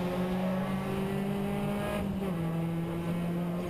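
Ford Fiesta race cars in a junior championship race at Cadwell Park, engines droning loud and steady with shifting revs as the cars climb and accelerate, a constant high-pitched motor whine throughout.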